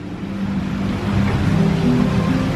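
Flowing water of the lazy river at Volcano Bay water park, a steady broadband wash with low rumbling texture, fairly close and continuous, slightly louder in the second half, no talking.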